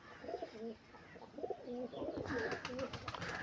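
Pigeons, including a newly caught colored one, coo softly and repeatedly in a quiet setting, a low rhythmic series of throaty calls with faint background noise.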